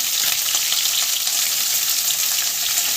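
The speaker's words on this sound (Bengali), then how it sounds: "ভেন্ডিগুলো একটু ভেজে নিই ভেন্ডিগুলোকে একটু ভাজা ভাজা করে নেবো" Small whole okra fry in a pan, giving a dense, even, close sizzle that hisses on steadily without pause.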